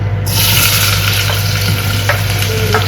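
Chopped onions sizzle steadily in a few spoonfuls of hot oil for chicken pulao, a loud continuous frying hiss with faint spoon scrapes, close and with no talking.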